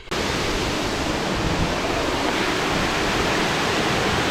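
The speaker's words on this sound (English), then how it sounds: "Look at that waterfall." A waterfall in an African village roars steadily as a dense, loud, unbroken wash of falling water, starting abruptly and holding constant throughout.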